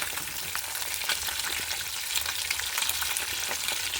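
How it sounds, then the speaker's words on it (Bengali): Fish frying in a pan in a home kitchen gives a dense, continuous crackling sizzle, close and steady throughout with faint occasional ticks, and no talking. "মাছটা সবে ভাজা শুরু করলাম"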